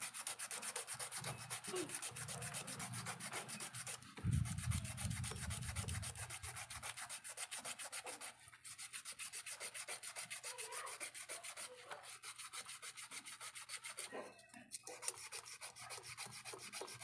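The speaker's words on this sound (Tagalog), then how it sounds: "dito rin sa kabila, lihain din natin." Sandpaper is rubbed back and forth on a part of a BF-30 3D Rota Aire electric fan, a close, continuous scratchy rasp with a brief heavier scuffing passage and short pauses.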